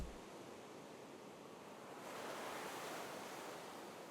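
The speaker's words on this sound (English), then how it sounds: "So waves and beach vibes." Ocean surf ambience used as an atmosphere layer in a pop song production, a steady wash of breaking waves and hiss that swells louder halfway through, with no voices.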